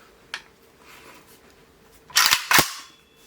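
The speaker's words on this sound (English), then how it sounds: "So I'll put up the trigger pull so you see it there" Trigger of a Meridian Defense Volk AK-47 rifle pulled: one faint early click, then two sharp, loud mechanical snaps close together near the end, heard up close with no talk.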